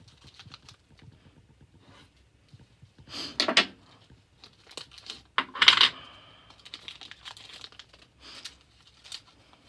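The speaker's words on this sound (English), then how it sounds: "let's open up the spur gear" Cover being opened over the spur gear of an Arrma RC car during a spool installation: quiet clicks and handling rattles, with two louder bursts of plastic and metal clatter midway, close up.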